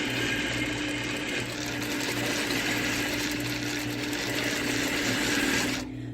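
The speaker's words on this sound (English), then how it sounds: "I'm just sewing right along the edge, but I'm kind of holding the fabric behind as it comes out from under the foot" A sewing machine stitching along the edge of a fabric ruffle, a fast continuous mechanical whir close by that stops abruptly near the end.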